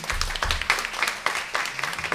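Applause at a public hearing on discrimination and doulas, a modest group clapping in uneven bursts with a few distinct claps standing out, fairly close and moderately loud, with voices mixed in.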